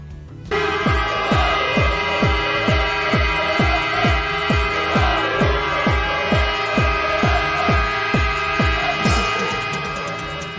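A loud, deep NHL hockey goal horn blares steadily while a rapid, regular throbbing pulse runs underneath, echoing as if across a large arena.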